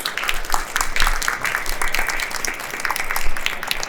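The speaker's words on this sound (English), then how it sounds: "Can we just give them a round of applause?" A panel audience at an IoT development event applauds, a close, even patter of many hands lasting a few seconds.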